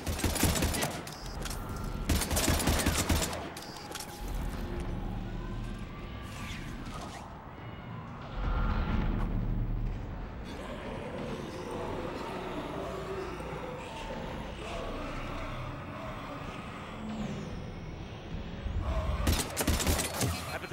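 Heavy gunfire in the sci-fi shooter Mass Effect 3 during a fight against husks, with bursts of shots and crashes at the start and end over a sustained roar of battle and score, with voices shouting at times.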